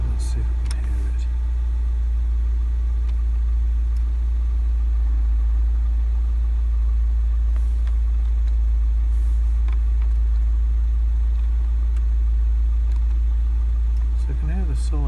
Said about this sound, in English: I can hear the solenoid coming on and off, and the actual turn of the engine revs is dropping